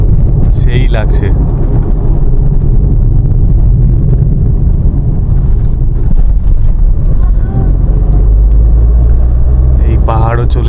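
A Maruti Alto K10 climbs a hill road toward Lava, its engine a low, steady rumble with wind buffeting the microphone, and people speak briefly over it at the start and the end.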